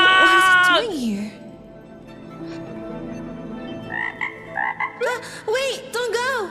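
A game frog gives a few croaks, each a short, bright, chirpy burst, set over a steady musical background, with a clear sustained tone early in the clip.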